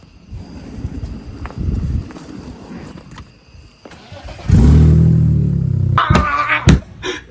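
BMW E46 car after a fuel pump install, a faint shuffle and knocking first, then the engine starts up loudly nearby and idles with a rough rumble before revving sharply a few times.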